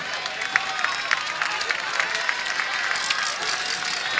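Stadium crowd at a Friday night game at Aguilar Memorial Stadium in Los Fresnos, a steady roar of applause and cheering with sharp individual claps and shouts standing out across the whole stretch.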